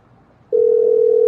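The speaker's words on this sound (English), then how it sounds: "So phone is ringing." After a brief quiet moment, a steady electronic telephone ringing tone starts and holds, loud and clear.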